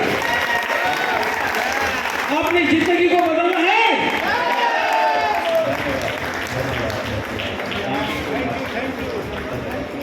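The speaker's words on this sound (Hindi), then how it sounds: "प्लीज जोरदार ताली कीजिए सर" Loud, sustained audience applause at a sales training seminar in Raipur, Chhattisgarh, steady clapping throughout with someone speaking over it in the middle.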